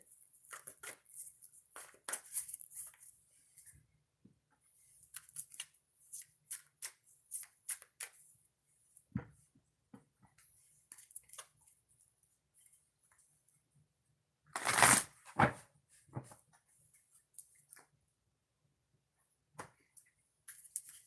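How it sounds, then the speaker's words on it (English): Cards riffled and shuffled repeatedly in bursts, crisp papery flutters with pauses between, one louder riffle in the middle, no talking. "I'm going to shuffle the deck before we get started."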